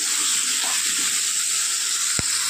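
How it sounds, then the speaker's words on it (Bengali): Onion frying in a pan until reddish gives off a dense, steady hiss of sizzling oil, loud and close throughout, with one brief faint click near the end and no speech. "পেঁয়াজটাও একটু লাল করে ভেজে নেব"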